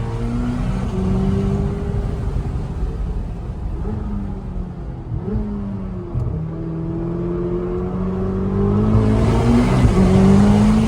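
A 1,064-horsepower Chevrolet Corvette ZR1 heard from inside while driving, its engine droning loud and close with rising and falling revs, climbing strongly toward the end.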